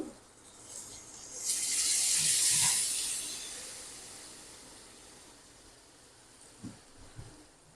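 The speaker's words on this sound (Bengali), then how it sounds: "মশলা থেকে তেলটা ছেড়ে দিয়েছে এখন আমি দিয়ে দেব জল" Water hits fried spice paste in a hot pan, setting off a loud burst of steamy hissing sizzle that slowly dies to a quieter simmer, with a couple of small knocks near the end.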